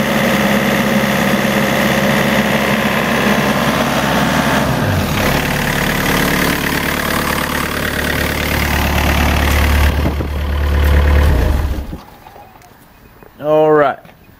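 An excavator's engine idles with a steady, loud, low rumble that swells briefly before dropping away, and a short voice sounds near the end.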